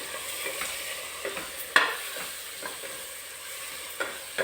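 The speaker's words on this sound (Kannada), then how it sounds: "ಜೊತೆಗೆ ಈಗ ನಾವು ಟೊಮೆಟೊ ಹಾಕ್ಕೊಳ್ಳೋಣ. ಚೆನ್ನಾಗಿ ಫ್ರೈ ಆಗಿ ವೀಕ್ಷಕರೇ." Tomatoes fry in a pan for vangibath, a soft sizzle running underneath while a spoon scrapes and stirs in irregular, clattering strokes.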